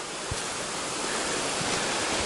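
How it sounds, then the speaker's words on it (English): A river runs beside a trail through the Cohutta Wilderness, a loud, steady rushing of water with wind-like noise filling the whole stretch and no voices. "Well, the river's getting bigger."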